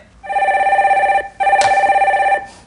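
A telephone rings for an incoming caller on a Korean radio stock-advice call-in show, with two long electronic ring bursts separated by a brief pause, loud and clear with no talking.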